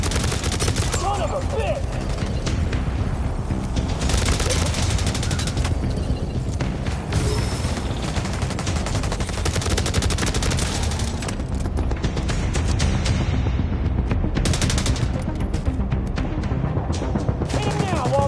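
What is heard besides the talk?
gunfire in the video game Division Resurgence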